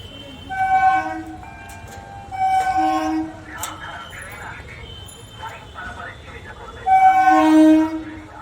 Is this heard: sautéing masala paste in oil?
no